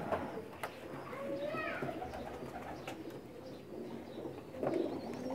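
Pakistani pigeons coo at a breeder's home, soft repeated coos mixed with faint chirps against a busy background, with some voices faintly present.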